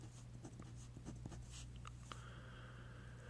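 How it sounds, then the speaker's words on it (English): Quick marker or chalk strokes writing a row of x's on a board during an algebra lesson, a series of short scratchy taps over a steady low room hum, close and fairly quiet, with no talking. "I'm going to write out quickly"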